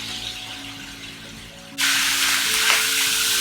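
Rice with carrots and peas stir-fries in a pan for Singapore fried rice, giving a close, steady sizzle that jumps to a much louder, brighter hiss partway through, with no talking.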